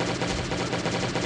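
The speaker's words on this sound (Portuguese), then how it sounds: "só tiro rolando" Rapid gunfire in the Last Day On Earth video game, a dense burst of machine-gun shots rattling continuously and loudly for about a second.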